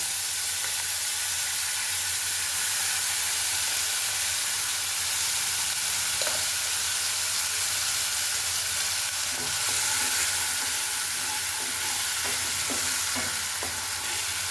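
Tomato and green chili paste frying with eggplant in a pan gives off a loud, continuous close-up sizzle, with a few faint spatula taps near the end.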